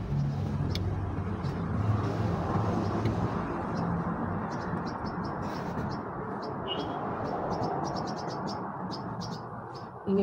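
Birds chirp outside on an overcast morning, many short, quick calls repeating high over a constant low rumble of passing traffic, fairly distant and with no one speaking.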